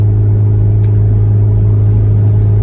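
Engine of a 2001 JDM Mazda Bongo van, a tall, heavy van of about 110 horsepower, pulling uphill with a loud, steady low rumble that holds throughout with no voices.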